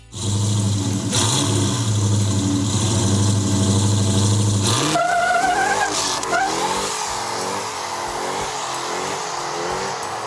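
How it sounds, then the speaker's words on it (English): A loud supercharged car engine revs hard and climbs in pitch, then shifts into a higher gear of a six-speed manual transmission with a rising supercharger whine as it keeps accelerating. "First gear, second, there's the supercharger kicking in."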